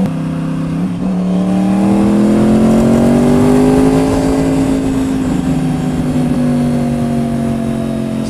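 A motorcycle fitted with a Toce exhaust revs up and holds a loud, close, sustained engine note that rises in pitch, then settles slightly without dropping off, with no talking over it.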